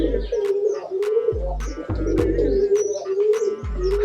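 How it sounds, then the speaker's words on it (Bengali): Shekhar breed pigeons coo repeatedly inside a loft, soft throaty calls overlapping, with occasional sharp clicks or wing flaps nearby. "এই কবুতরগুলোর নাম হচ্ছে শেখর"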